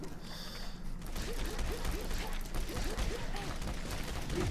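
A double-barrel shotgun fires in the co-op video game Final Exam, with repeated sharp blasts and clanking mechanical action over busy game noise, fairly quiet in the mix as players talk.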